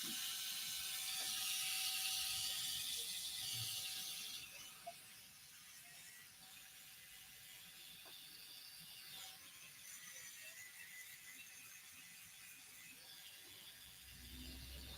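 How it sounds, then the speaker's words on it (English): An electric seam ripper runs with a faint, steady mechanical whir and a thin tonal hum, softer after the first few seconds, with a small click partway through and no talking. "So now you guys get to see my electric handy dandy seam ripper."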